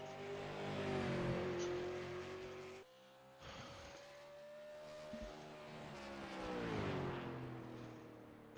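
Race car engine roaring in iRacing at USA Speedway as the number 99 car pulls onto the track out of turns 1 and 2, steady loud engine tone that drops briefly then climbs again with rising revs and faint tire noise.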